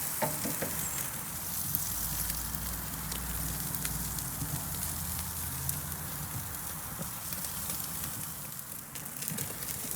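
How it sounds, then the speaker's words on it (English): A thick tomahawk steak sears on a hot surface in a reverse sear, giving a steady, fairly faint crackling sizzle with occasional pops, heard close and alone. "let it sear."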